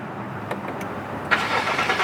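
A car engine turns over and catches again while the car is being driven at about 20 miles an hour after the start button is double-tapped, with a rising burst of engine noise above steady road rumble.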